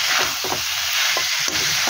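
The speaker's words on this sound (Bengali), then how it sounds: "আলু দিয়ে আর একটু সময় কষে নেব।" Young jackfruit and potatoes sauté in a pan with a constant close sizzling hiss, punctuated by a few short scrapes of a spoon stirring.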